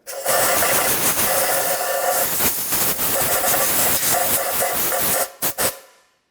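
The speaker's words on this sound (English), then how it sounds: "little bit of compressed air" Compressed air hissing loudly and steadily in bursts while cleaning around the exhaust manifold flange studs of a 2005-2010 Chevrolet Cobalt, cutting off with a few short final blasts.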